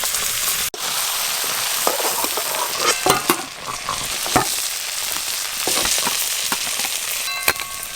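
Giant freshwater prawns fry in hot oil in a pan, giving a loud, close, continuous sizzle with crackling bursts and occasional stirring clatter over about eight seconds.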